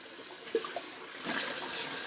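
Tap water runs into a bowl being rinsed of shaving soap, a steady rushing splash that swells louder partway through, with a couple of small knocks early on.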